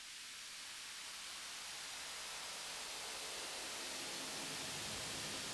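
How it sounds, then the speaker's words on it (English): A white noise machine puts out a steady, even hiss of broadband static, faint and unbroken, with no voices or other sounds over it. "Maybe we just use white noise instead?"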